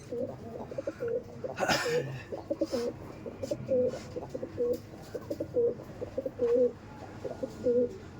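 Breeding pigeons of a Punjabi tournament flying breed coo in soft repeated low phrases close by, with rustling and a brief flutter near the start and faint voices in the background.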